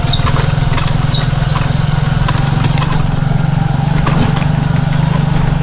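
A water pump engine runs at a rice field irrigation site on a farm in Porac, Pampanga, chugging with a steady, rapid rhythm, close and loud throughout with no pause.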